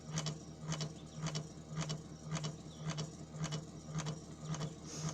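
A slow-RPM battery charging system runs steadily, giving a faint mechanical rhythm of regular ticking clunks about twice per second over a low hum.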